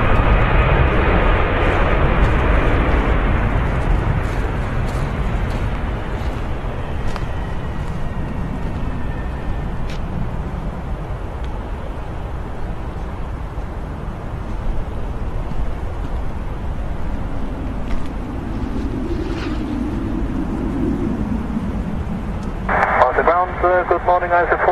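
A stretched Boeing 757-300 jet airliner rumbles loudly at Manchester Airport, the engine roar fading over several seconds before radio chatter cuts in near the end.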